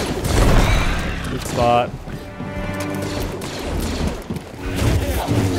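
Blaster gunfire in the video game Star Wars Jedi Fallen Order: rapid bursts and crashes of shots, loudest at the start and again near the end, mixed with game effects while a person talks over them.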